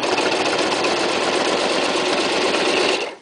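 A Toyota Super Jeans J34 sewing machine runs steadily at full speed, a loud continuous whirring buzz that holds even for about three seconds and then stops abruptly, with no talking.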